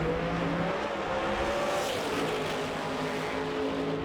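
Drag race cars, a Corvette and a 1969 Firebird, launch off the line at a street drag racing event, a loud sustained engine roar with rising tones and tire noise, heard from near the track.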